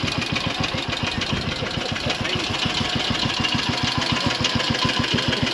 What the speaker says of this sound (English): that sounds like Jay's Triumph engine